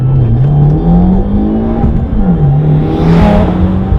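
A 2015 Subaru WRX tuned with a Cobb Accessport pulls hard in first gear, its engine loud and close as the pitch climbs, dips, then climbs again beneath a steady whooshing whir, with no talking.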